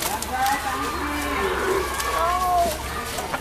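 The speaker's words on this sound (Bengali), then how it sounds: "এটা একটা সাইওয়াল ষাঁড় বাচ্চা।" A Sahiwal bull calf at a dairy farm gives a few drawn-out, wavering moos, fairly close and moderately loud over steady farmyard background noise.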